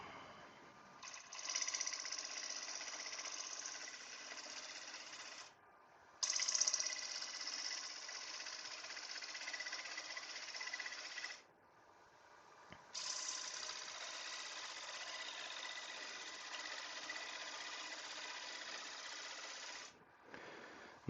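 A woodturning lathe cuts a cedar bowl with a steady, close tool hiss in long passes, broken by a few short pauses between cuts.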